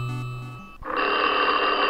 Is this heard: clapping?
no